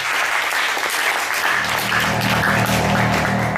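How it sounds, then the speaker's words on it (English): Dense crowd applause in a bar venue for a singer on stage, loud and continuous, with a low music bass line entering partway through. "Big round of applause over there on stage."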